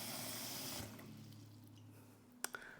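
Tap water runs steadily into a saucepan, a broad hiss that thins and quiets after the first second, and a couple of sharp clinks of the pan follow near the end.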